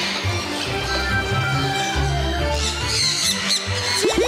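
Parrots squawk and chirp inside an aviary at feeding time, giving a dense, busy din of calls with a few sharp squawks rising near the end over steady background noise.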